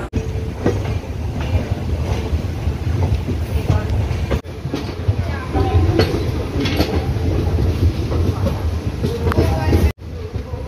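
Train pulling into Bhopal station on the Ujjain to Bhopal run, a steady loud rumble of railcars and wheels with wind buffeting the microphone, continuous throughout with a brief dip midway and near the end.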